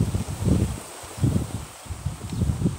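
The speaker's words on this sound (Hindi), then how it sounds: "बहुत अच्छी हवा चल रही है" Wind blows outdoors near a house by a station, coming in soft rustling gusts that swell and fade about three times, moderately quiet and heard alone.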